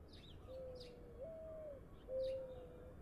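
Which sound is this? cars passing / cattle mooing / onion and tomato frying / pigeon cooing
pigeon cooing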